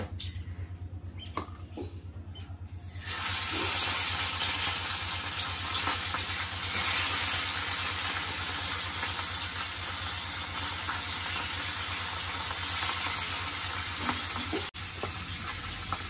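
Bhola fish frying in hot oil kicks in after a quiet start, becoming a steady, close, crackling sizzle with fine spitting pops that continue throughout.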